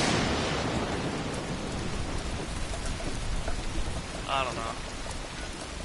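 Rain falling in the video game Fallout 76: a steady, dense hiss of rainfall with a low rumble, continuous throughout, and a brief voice speaking near the end.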